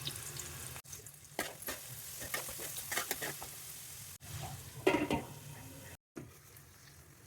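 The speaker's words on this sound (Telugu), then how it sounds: "గోల్డెన్ బ్రౌన్ కలర్ వచ్చే వరకు ఆనియన్స్ ఫ్రై చేస్తే టేస్ట్ బాగుంటుంది" Onions fry with salt in a pan for a Konaseema-style chicken curry, a soft close sizzle broken by stirring scrapes and a couple of brief silent gaps.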